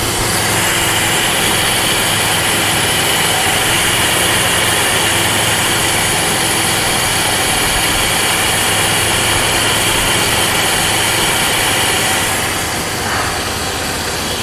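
A 1996 Chevy 1500 pickup engine idles steadily up close, a dense continuous rumble with a constant drone throughout, easing slightly near the end.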